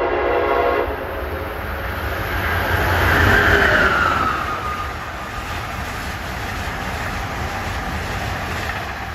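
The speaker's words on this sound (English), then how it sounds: "Here comes 184, Washington to Boston, with the stalking locomotive" Amtrak train 184, running Washington to Boston, passes through Hamilton, New Jersey, a loud continuous rumble of wheels on rail that swells midway as it goes by, with a horn sounding.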